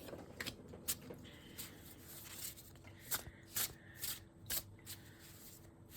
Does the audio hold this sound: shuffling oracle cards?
yes